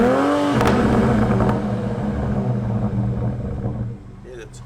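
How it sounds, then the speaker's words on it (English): A car engine revving from a cold start as its turbo winds up, a loud rising whine and roar that settles into a steady run and then fades, with people talking over it. "the turbo winding up on that"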